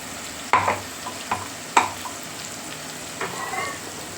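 Masala paste for Maharashtrian misal frying in a hot pan, with a steady close sizzle broken by a few sharp stirring scrapes and clatters of the spoon against the pan.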